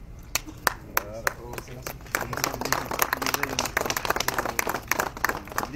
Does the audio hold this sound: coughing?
no